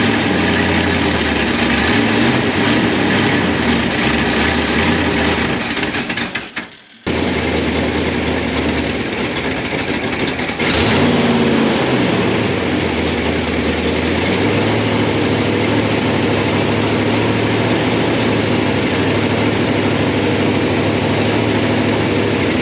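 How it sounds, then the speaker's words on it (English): A 1962 Ford Thunderbird's 428 V8, running after over 24 years unused, idles loudly and continuously with a rough low rumble, briefly dipping and cutting out for a moment before carrying on just as heavily. "We start getting it to idle"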